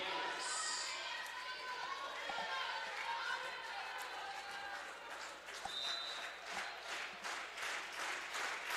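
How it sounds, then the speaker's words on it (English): Crowd at a college volleyball match between Alaska and Black Hills State cheers and claps steadily in a gym, a broad wash of noise with sharp transients like ball or shoe sounds, while a commentator talks over it. "Now they're going to give the server some noise to work with."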